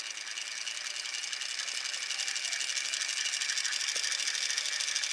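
A wind-up toy octopus from Doubutsu Sentai Zyuohger spinning its tentacles, a steady, fast whirring buzz held close and even throughout, growing slightly louder toward the end.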